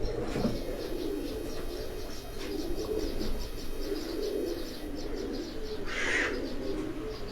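Pigeons coo steadily from a rooftop loft in Jalalpur Bhattian, a continuous low burbling chorus of many birds close by, with a brief higher chirp near the end and no talk.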